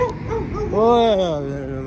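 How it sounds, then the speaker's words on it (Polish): A dog encountered while walking on a road gives a short whining, yelping vocalisation, fairly close and loud, with rising and falling tones over brief background noise. "Czekajcie, bo mnie tu struszy pies."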